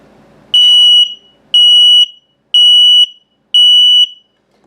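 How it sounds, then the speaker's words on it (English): An RV LP and carbon monoxide detector runs its low-battery alarm in test mode: four loud, shrill electronic beeps, each about half a second long, evenly spaced about a second apart, very close and alone against silence. "And low battery alarm."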